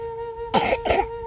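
Two short, close coughs, harsh and throat-clearing, come in quick succession over a faint steady electrical hum.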